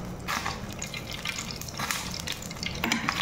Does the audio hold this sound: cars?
no